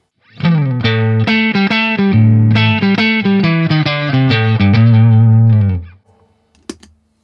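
Loud electric guitar through an overdrive pedal in Dumble mode, with single-coil pickups, plays a busy run of notes and chords for several seconds, then stops abruptly, followed by a soft click.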